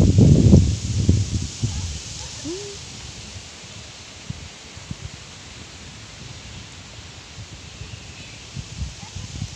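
Wind blows steadily across an open peat pond on a warm day, a constant hissing rush with heavier buffeting thumps near the start that ease into a softer, even roar.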